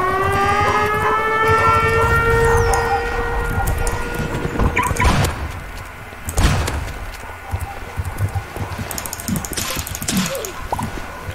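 Loud alarm siren in the Roblox game Mad City, steady wailing tones sounding continuously and then fading while thuds and mechanical clanks take over.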